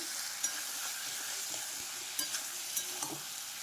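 Boiled chickpeas stirred with spices in a pan over low heat, a steady soft sizzle broken by a few scattered scraping clicks of the spoon, close and fairly quiet with no talking.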